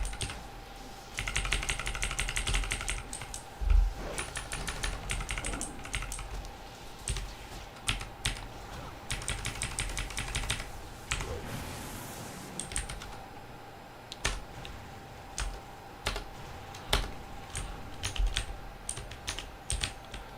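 Computer keyboard typing during a WoW Ascension game session: close, continuous rapid clatter of keys with irregular bursts and brief pauses, fairly quiet overall.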